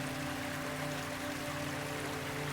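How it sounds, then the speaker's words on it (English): Water flowing in a rocky Arizona creek gives a steady, close, broadband rush and gurgle with no pauses, accompanied by a faint constant hum. "Just sitting in the shade, resting, and listening to this lovely water."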